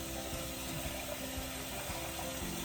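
Tap water runs steadily into a pot of potatoes in a home kitchen, a continuous close rushing fill with no talk over it.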